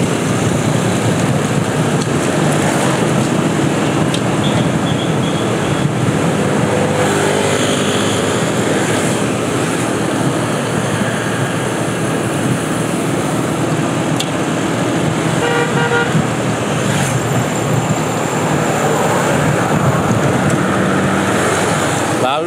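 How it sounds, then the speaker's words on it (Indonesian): Busy road traffic roars steadily throughout a fast road-bike time trial, with a few brief car horn toots cutting through the constant engine and tyre noise. "Lalu lintas mulai ramai, padat."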